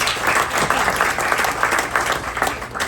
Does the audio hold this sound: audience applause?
yes